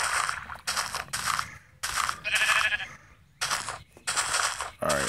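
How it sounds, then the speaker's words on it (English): Minecraft sheep bleating loudly and close in a series of repeated bleats separated by brief pauses, with no talking over them. "Alright, I hear a sheep."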